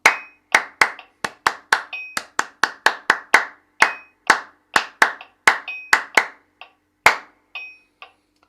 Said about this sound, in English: there's our little clapping pattern for today